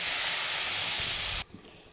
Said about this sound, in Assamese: এইখিনি ভালকে ভজা হৈ গ'লে এতিয়া মই পানী দি দিম